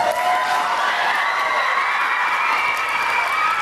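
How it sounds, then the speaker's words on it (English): A crowd cheers and whoops loudly and steadily at a presentation of a 2022 Outstanding Principal Award, the excited voices blending into a continuous roar throughout. "We told you there was some serious cheering going on"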